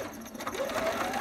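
A sewing machine zigzag stitching fabric, giving a steady, close, continuous mechanical whir with rapid needle clatter throughout.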